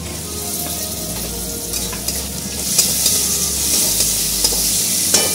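Tomatoes sizzle and fry in a spicy paste of ginger and garlic for a Bengali topse fish curry, a steady close hiss with occasional stirring scrapes and no talking.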